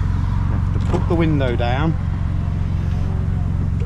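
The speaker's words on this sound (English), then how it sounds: "You have to start the engine," A 1992 Nissan 300ZX Z32 twin turbo engine idles with a steady low hum beneath someone talking briefly, the idle continuing evenly after he stops.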